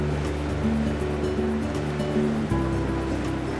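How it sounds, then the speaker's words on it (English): Cleveland Metroparks water taxi boat cruising on Lake Erie, with a steady engine drone and wash of water against the hull throughout, loud and close, the engine pitch shifting partway through. "We're aboard the Cleveland Metroparks Water Taxi."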